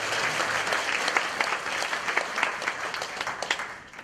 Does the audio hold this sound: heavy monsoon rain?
no